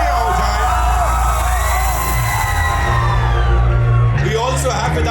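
Press conference audience at a film trailer launch cheering and whooping in a loud, continuous crowd roar, with a voice and music running through it.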